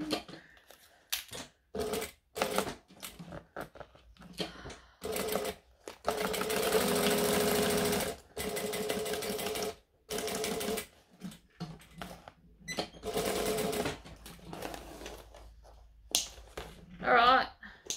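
A sewing machine stitches through thick fabric without backstitching, with several sustained whirring runs broken by pauses, clunks and handling noises, close and fairly loud.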